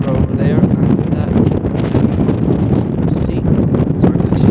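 Strong wind on the Binn, a hilltop near Edinburgh, roaring continuously across the microphone in close buffeting gusts, with a voice faintly under it at the start.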